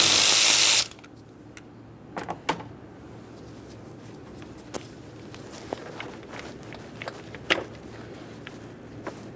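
Ratchet wrench with a 10mm socket loosening a battery terminal nut on a 2015-2020 Ford F-150, heard as scattered faint clicks and short ratcheting bursts at close range, with a loud broadband burst at the very start.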